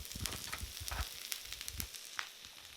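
Calabacitas (Mexican zucchini dish) frying in a pan, a steady low sizzle with soft crackles and a few brighter pops, moderately close and left to cook untouched.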